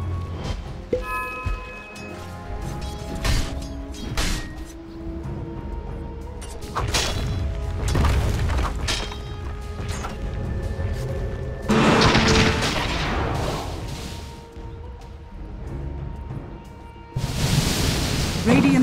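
Dota 2 battle with a tower under attack during a full Morphling game: loud, dense booms, crashes and gunfire-like bursts of spell and combat effects pile up continuously, with surging blasts near the end.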